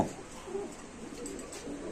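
Many pigeons coo together inside a crowded loft, a dense, continuous murmur of low throaty calls overlapping one another at close range, with no talk over them.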